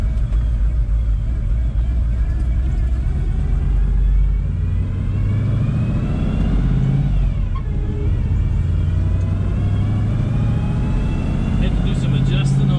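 A 1979 Chevrolet Camaro Z28 with a Borg-Warner T-10 four-speed on the road to a gas station, its engine giving a steady, loud, low rumble from inside the car with a brief shift in tone midway.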